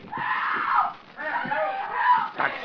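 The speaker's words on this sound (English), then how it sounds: "Then he heard a muffled scream." A woman's muffled scream in a 1940s-style radio drama rises in two strained, wavering cries, fairly close and clear, with a little voice activity between them.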